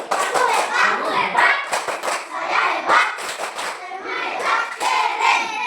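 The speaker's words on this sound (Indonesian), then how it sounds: "kita berikan tepuk hebat untuk kelompok 1" Children clap a rhythmic cheer pattern together for a group during a classroom lesson, quick bursts of hand claps repeating in a steady pattern, close and fairly loud, with young voices chanting along.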